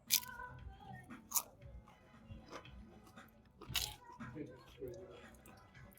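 Crunchy bites and chewing of a spicy vegetarian taco at a Gatlinburg taco spot, close to the mic with a few sharp crackles and softer mouth sounds, while people talk quietly in the background.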